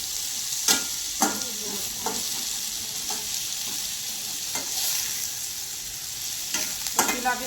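Spring onions fry in a pan for Marathi eggplant bharit, a steady soft sizzle broken by repeated sharp scrapes and clinks of a spoon stirring.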